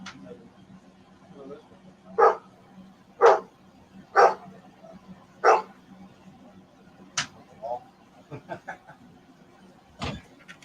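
A pet dog barks four times in a row, fairly close, then gives a few softer yelps; background noise and faint human sounds run throughout.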